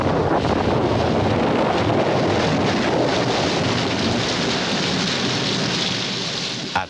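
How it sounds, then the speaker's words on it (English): Heavy rain pours steadily over dry African land with rumbling thunder and gusting wind, loud and continuous with no voices. "At last, rain returns to drench the thirsty land"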